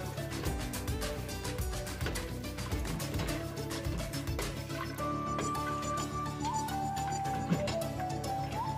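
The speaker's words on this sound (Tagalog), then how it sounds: "now, lalagyan na natin siya ng ating tubig" Water pours steadily into a cooking pot for creamy sopas, a continuous close splashing fill that shifts to a rising gurgling tone as the level climbs, with no talk.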